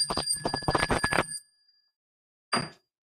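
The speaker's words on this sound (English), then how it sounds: "I'll hold the bell far away so it doesn't." An old bell rings out very loud in a fast flurry of strokes for over a second, then falls silent. One short, sharp ring follows after a pause.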